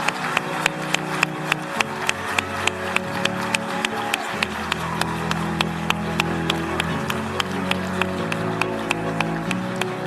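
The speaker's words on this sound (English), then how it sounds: "Let's keep those round of applause going." Audience applause at a matric results announcement, a crowd clapping steadily and briskly, with sharp individual claps standing out over a sustained background hum.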